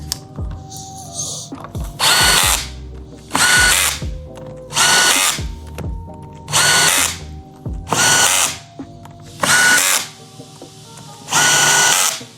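Power driver spinning in housing bolts on a Cummins 68RFE transmission valve body, about seven loud, close bursts of whirring roughly a second each, separated by brief pauses and small metallic clinks.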